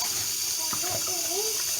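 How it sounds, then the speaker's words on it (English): Tap water runs steadily into a sink while chopped pickle relish is rinsed of its salt, a constant close hiss of flowing water with a few soft clinks and a faint voice in the background. "I'm going to continue rinsing this to get that salt all out of there"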